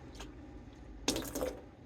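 Water trickles from a tap into a bowl of sourdough ingredients, a soft uneven flow with a brief louder splash midway, close and quiet with no voices.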